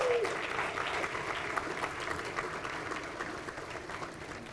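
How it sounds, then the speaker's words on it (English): An audience at a State of the City 2023 address applauds two students, with even, moderately quiet clapping from a large room that fades slightly toward the end. "Let's give them a round of applause"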